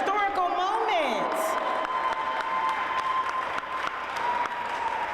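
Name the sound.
audience applause at opera company reception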